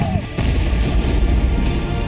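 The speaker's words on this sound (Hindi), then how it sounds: "तो हिंदुस्तान तोप के गोले दाग रहा है।" Indian Army artillery guns fire shells across the Line of Control with a heavy, deep boom that rumbles and rolls on, followed by sustained low thunder and distant reverberation.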